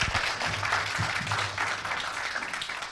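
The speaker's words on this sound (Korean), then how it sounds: "여러분 큰 격려의 박수 한번 부탁을 드립니다." Lecture audience at a humanities forum applauding a professor, steady continuous clapping filling the room, with a brief voice near the start.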